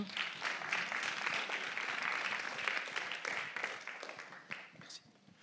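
A crowd applauds steadily at a media education awards presentation, dense sustained clapping at moderate distance that thins slightly toward the end, with no voices standing out.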